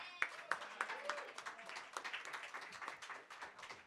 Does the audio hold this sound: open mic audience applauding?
yes